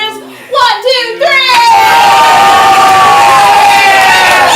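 A ComedySportz holiday show audience erupts into loud cheering, whoops and clapping after a shouted countdown, a dense crowd roar that swells and holds steady.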